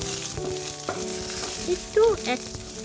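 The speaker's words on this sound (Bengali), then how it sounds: "ফ্রাই প্যানে কিছুটা রাই আর কারি পাতা দিলাম, একটা শুকনো লঙ্কা দিলাম" Mustard seeds, curry leaves and a dried red chilli crackle and sizzle in hot oil in a frying pan, with a few sharp pops and a brief scrape of stirring over a steady fry.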